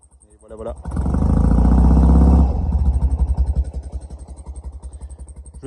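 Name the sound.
flat-twin motorcycle engine running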